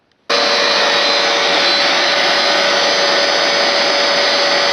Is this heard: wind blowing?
no